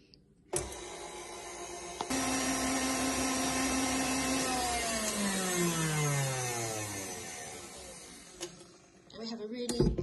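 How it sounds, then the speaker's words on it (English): An electric whisk whirs loudly as it beats egg whites toward stiff peaks, its motor tone slowly dropping in pitch as the mixture thickens, then cutting off, with a few clatters at the end. "I'm going to whisk them to a stiff peak"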